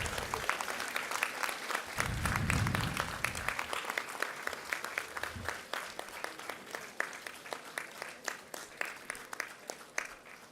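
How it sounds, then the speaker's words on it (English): An audience at a graduation ceremony applauds the graduates with scattered, distinct claps that thin out over time into sparse individual hand claps, with a brief low murmur near the start. "And clap for them from the bottom of your heart."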